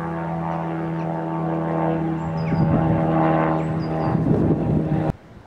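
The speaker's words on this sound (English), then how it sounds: "It was a biplane, not a helicopter" Steady droning biplane passing overhead, a low propeller hum with harmonic tones that swells midway, then cuts off abruptly near the end.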